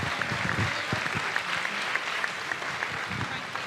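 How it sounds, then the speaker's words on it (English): Audience applause at an FTC robotics competition event, a steady wash of clapping for the judges and volunteers lasting throughout, moderately distant in a large hall. "let's give one big round of applause for the judges and all the volunteers"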